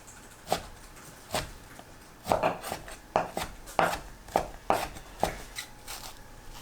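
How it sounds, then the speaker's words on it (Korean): A knife chopping fish cake into small pieces on a cutting board, sharp distinct thuds that start out spaced apart and then fall into a steady, quicker rhythm, close and clear with no talking. "어묵을 작게 썰어주세요."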